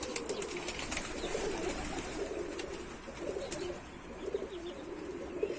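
Pigeons coo softly and repeatedly in a low, murmuring chorus, the calls rising and falling over steady outdoor background noise, with a few faint higher chirps mixed in.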